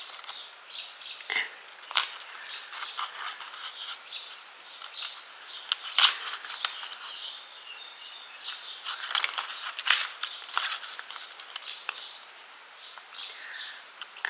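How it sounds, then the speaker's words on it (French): Small scissors trim paper corners for a craft project, making quiet, crisp snips and rustles in an irregular run of short cuts, close up in a calm room. "On va prendre les petits ciseaux pour fignoler là."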